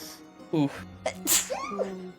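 A single sharp sneeze from someone who skipped their allergy medication, loud and close, set among casual chatter from people around a tabletop role-playing game.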